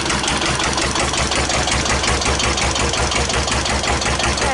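A 1941 Witte one-cylinder diesel engine on a Dieselectric generating plant runs loud and close, thumping in a steady, even rhythm at idle with a dense mechanical clatter over each beat.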